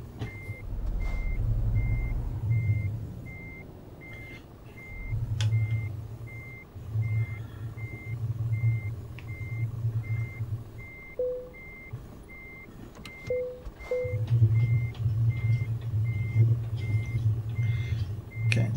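Steady reversing beeps from a Scania truck in Euro Truck Simulator 2, repeating evenly for the whole stretch over a low diesel engine drone with a few short air hisses, while the truck backs up through a gate towards a double-trailer load.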